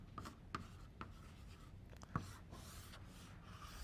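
Chalk or marker strokes on a classroom board while a physics lecturer derives an equation on magnetic moments, a few brief scratchy taps and scrapes spaced apart, moderately close and alone without talk.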